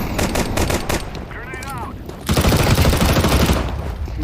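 Rapid gunfire in Counter-Strike 2 competitive mode on the Dust 2 map, with bursts of loud crackling shots at the start and a denser, louder barrage of fire through the second half.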